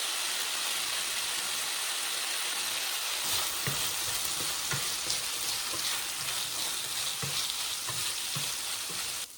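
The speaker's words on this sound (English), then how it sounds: "Stir fry briefly until the vegetables are coated with oil." Carrot and onion stir-fry in oil in a pan for yaki udon, a steady close sizzle and crackle with occasional soft stirring knocks.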